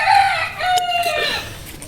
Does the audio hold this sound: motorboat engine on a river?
no